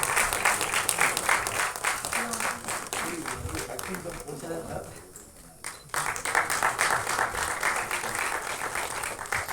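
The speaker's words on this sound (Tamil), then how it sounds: "ஒரு பலத்த கைத்தட்டல் கொடுத்துடலாம் ப்ளீஸ்." Audience applause at a film and album song screening festival, a loud, dense burst of clapping that dips briefly midway and then swells again, with a voice speaking faintly beneath the crowd.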